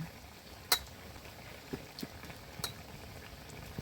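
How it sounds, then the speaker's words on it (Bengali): A spicy vegetable curry simmering in a pot, giving a soft, steady bubbling with a few sharp pops and clinks over low background noise; no talking. "খেতে খেতে ঝাল তরকারিটা সুন্দর করে ফুটে গেছে"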